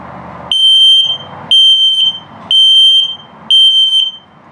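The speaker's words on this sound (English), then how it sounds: "and of course your low battery alert" Low-battery alert from an LP and carbon monoxide detector in a 2022 No Boundaries NO-BO 19.6 travel trailer: four loud, piercing electronic beeps at an even pace, close up, with short gaps of quieter noise between them.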